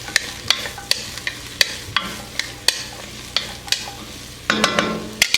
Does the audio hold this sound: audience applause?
no